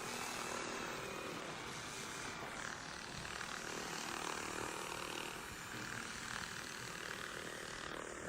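Bomber aircraft in a video game, a low steady propeller engine drone that holds faintly throughout.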